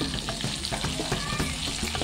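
Brinjal pieces fry in a pan for a stuffed brinjal curry. A steady close crackling sizzle runs throughout, with small scraping knocks as the pieces are turned.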